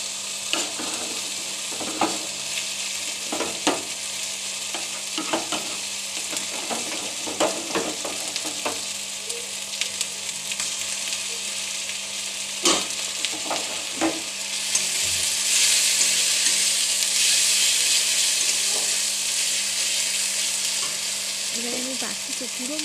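Garlic and ginger paste sautéed with spices in a pan for a fish kalia, with a continuous sizzle and repeated spoon scrapes and taps, the frying swelling louder near the end.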